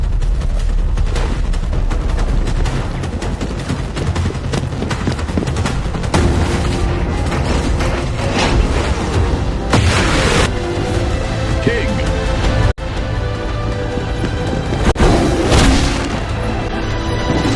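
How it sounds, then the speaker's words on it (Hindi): Dense Tekken video-game gunfire and heavy booms rattle on continuously, with voices occasionally mixed into the clamor. "तुम्हारी तरफ गोली चल रही है।"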